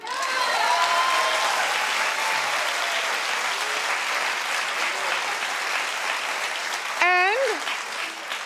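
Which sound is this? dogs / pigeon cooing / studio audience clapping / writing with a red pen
studio audience clapping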